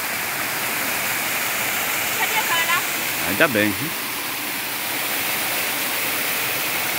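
Caripina waterfall in Felipe Guerra, Rio Grande do Norte, roaring as a steady broadband wash of falling water, with a few brief voices speaking over it.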